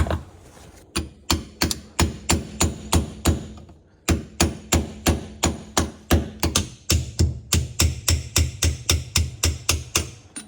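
Rapid metallic taps of a small hammer striking a wrench, working on a Nissan 200SX S13, strike in a steady series, sharp and close, with a brief pause partway before the tapping resumes.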